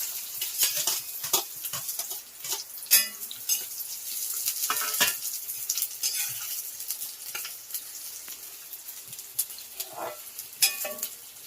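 Chopped onion sizzles in plenty of hot oil, the base for a chicken gravy curry. A dense, crackling fry runs throughout, close and loud, with frequent scraping and clattering from a spatula stirring the pan.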